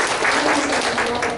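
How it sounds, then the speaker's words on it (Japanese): Audience applause opening a team's final presentation at an ideathon, a dense steady wash of clapping throughout, with some voices mixed in. "それでは拍手で始めてまいりましょう"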